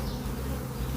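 Dense, continuous buzzing of many honeybees around an opened hive in a UK apiary, loud and close, with one bee droning right near the listener.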